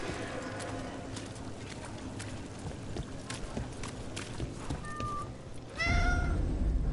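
A cat in the Dragon Age: The Veilguard video game lets out a single clear meow near the end, standing out above a steady background of ambient game sound and music.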